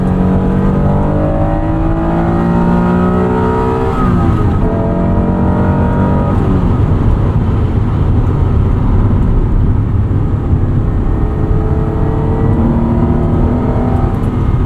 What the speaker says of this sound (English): This V6 really is a screamer.